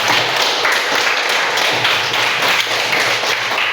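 Classroom audience applauding a student group after its presentation: a steady, dense wash of many hands clapping, loud and close, lasting the whole stretch without a break.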